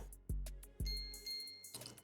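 A bell struck for effect, two sharp metallic dings about half a second apart, each ringing out and fading, followed by a brighter sustained chime, close and clear with no talk.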